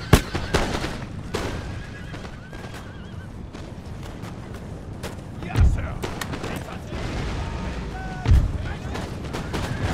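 Artillery booms and crackling musket volleys in the battle game Empire: Total War, with two heavy cannon thumps standing out over ongoing gunfire, horse whinnies and clattering hooves amid the battlefield din.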